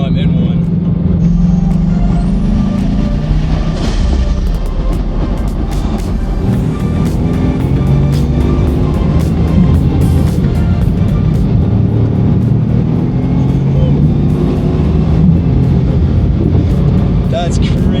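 A Bugatti cruising on the road, heard from inside the cabin as a steady, loud engine and road rumble that runs unbroken for the whole stretch, with voices likely in the car.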